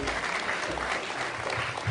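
A church congregation applauds in a dense, steady burst of clapping that fills the space and carries a light murmur of voices.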